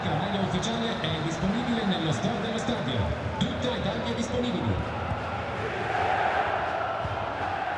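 A stadium crowd roars steadily during a Champions League match between Inter and Benfica in the video game EA FC 24, a dense continuous wash of fan noise with chanting tones, heard without any voice over the top.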